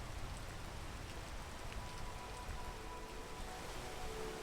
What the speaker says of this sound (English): We'll wait until after it stops raining.